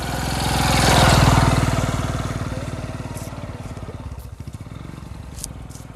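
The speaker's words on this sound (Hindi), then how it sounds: "कोई आवत ना रुको मोटरसाइकिल वाली आवत" A motorcycle engine approaches at night in a village, its mid-pitched putter swelling loud up close and then settling into a steady, slightly quieter idle-like chug with no talk over it.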